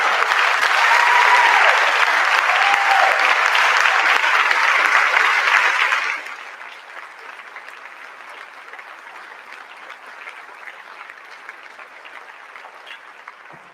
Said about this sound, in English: So let's give Craig a round of applause.